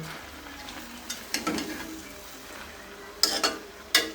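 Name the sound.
stirring spinach and shrimp curry in a pan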